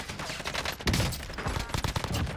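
Rapid gunfire from the battle-royale game Warzone, dense bursts of automatic shots crackling close and loud in quick succession with no talking.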